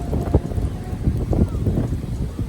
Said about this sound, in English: It's just really windy today.